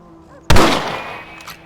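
A single sharp rifle shot in Red Dead Redemption, a loud close crack with a booming tail that rings and fades over about a second after a quiet lead-in.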